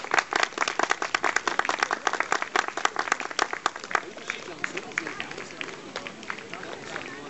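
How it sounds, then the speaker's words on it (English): Spectators lining a 10K road race cheer and clap for a charity runner passing by, sharp rhythmic claps and crowd noise fairly close, strongest early and thinning out toward the end, with babble in the background. "A big cheer for this lad here running for Guide Dogs for the Blind."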